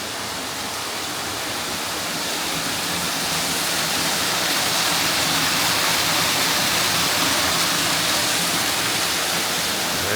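Spring water runs at Abraham Lincoln's birthplace in Kentucky, a dense, even rushing wash like a small waterfall that holds steady and loud throughout, with no voices.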